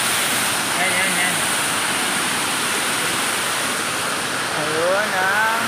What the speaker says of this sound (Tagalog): Ayun ang magandang talon.